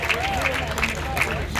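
Audience at a South Sudan comedy festival clapping, steady applause with crowd voices and a speaker talking over it.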